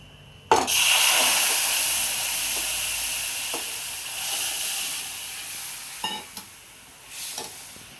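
Moringa drumstick pods drop into a hot kadhai with a sudden loud sizzle that settles into a fading hiss, followed by a few soft stirring clatters.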